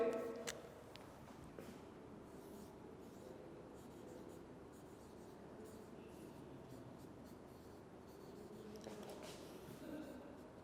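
A heading being written during a chemistry lecture produces a faint, steady scratching stroke sound that continues close by for several seconds, with no clear speech over it.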